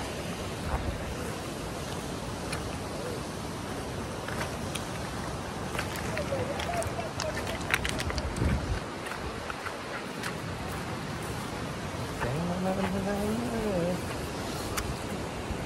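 The swollen Vashishti river near Chiplun, running close to its warning level, rushes with a constant broad roar mixed with wind buffeting, while faint voices sound in the background.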